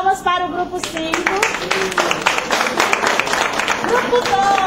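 An audience at a training session claps for a group, a steady patter of applause lasting several seconds with speech mixed in over it.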